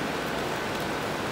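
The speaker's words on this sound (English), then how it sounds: "now it starts to rain" Rain falling in New York, a steady even hiss of drops, quiet and continuous with no voices.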